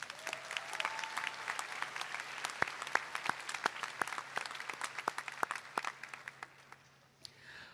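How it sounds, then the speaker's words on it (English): Commencement crowd in an arena applauding, a dense spread of many hands clapping with sharper individual claps standing out, moderately distant, thinning and fading toward the end. "Please give them a round of applause"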